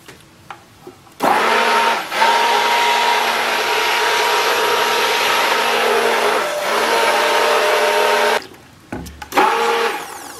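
Homemade liquid laundry detergent is mixed in a five-gallon bucket with a steady, loud mechanical whirr that runs for about seven seconds and then cuts off, followed by a few short knocks, with no talking.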